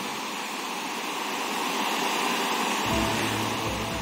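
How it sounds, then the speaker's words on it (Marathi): A waterfall at Harkul Khurd village pours in a steady, dense rushing roar that stays loud and constant throughout, with no voices over it. "धबधबा बघू शकता"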